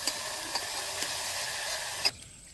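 Whole cardamom, cloves and cinnamon sizzle in hot oil for a prawn malai curry, a steady close hiss that cuts off abruptly near the end.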